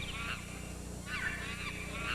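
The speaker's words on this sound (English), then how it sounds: "where we hear the birds" Honking bird calls used as a sound effect in a band performance, coming in two drawn-out goose-like bursts over a steady low hum.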